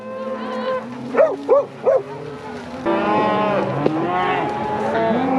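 Cattle being driven through deep timber let out several loud moos, three short calls in quick succession followed by longer, drawn-out lowing close by.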